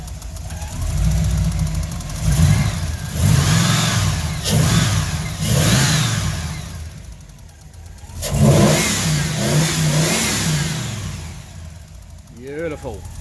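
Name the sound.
Holden Torana car engine revving after repairs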